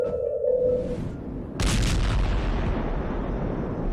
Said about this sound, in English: Earth-shaking booming sounds have been reverberating off some parts of North Carolina for more than 150 years